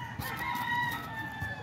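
A pet rooster crows nearby in a backyard where chickens are kept. The crow is a single sustained call with a few soft clucks and rustles around it.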